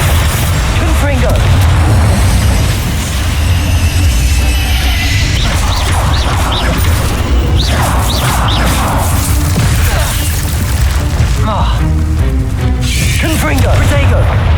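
Spell blasts in the Hogwarts Legacy video game, a dense, loud barrage of booming impacts, crashes and whooshes during a fight with a giant spider, layered continuously over game music and effects.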